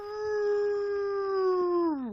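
A person imitates an old hound dog howl with one long, steady, clear tone that slides downward at the end, loud and alone.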